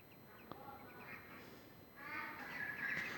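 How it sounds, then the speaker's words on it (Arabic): Ducks give faint, scattered quacks and calls in the background of a quiet outdoor space, with a few slightly louder calls near the end. "ده البط اللي كنت صورته معاكم قبل كده اهو"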